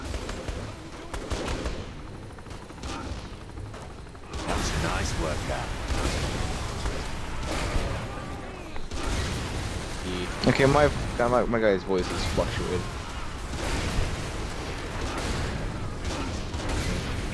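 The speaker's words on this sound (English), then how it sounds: "I'm really giving this card a test with all these explosions" Booming explosions and rapid gunfire from Saints Row 3 roll on continuously, loud and dense, with someone talking over the chaos throughout.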